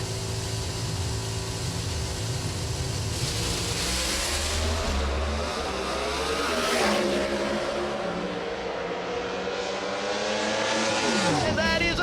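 Pro Stock drag race cars roaring down the strip in a final, loud high-revving engines with rising and falling pitch as they launch and accelerate, with a commentator talking over the din.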